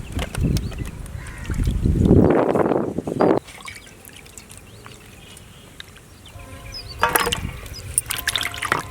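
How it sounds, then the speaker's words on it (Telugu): Tomatoes rinsed by hand in a vessel of water, with close splashing and sloshing that builds to a loud burst, then quieter dribbles and a second round of splashes near the end. "టమాటాలను బాగా కడుగుదాము."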